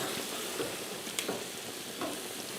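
Scrambled eggs mixed with salsa and Doritos fry in a pan with a steady, close sizzle and occasional scraping stirs, and no voices are heard.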